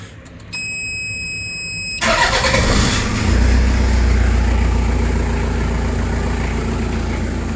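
A yellow 4x4 overlander with a diesel engine starts up after a brief whir, then settles into a loud, steady rumbling idle close by.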